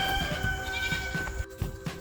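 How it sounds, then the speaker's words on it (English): Mini Oberhasli goats on a homestead bleat in several short, close calls, repeating at a quick uneven rhythm over a soft outdoor background. "we have some goats. We have two goats. They're both mini Oberhasleys."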